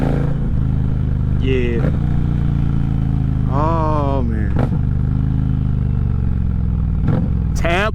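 Indian Challenger motorcycle fitted with Zombie baffles and a cross-pipe exhaust, a loud, close V-twin rumbling and revving in repeated rising pulls, with short exclamations from a rider over the engine.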